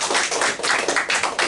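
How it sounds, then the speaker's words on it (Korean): A seminar audience claps to welcome a speaker at an energy industry breakfast seminar, with brisk, dense applause sustained through the short moment and no talking. "여러분께서 큰 박수로 맞아주시기 바랍니다"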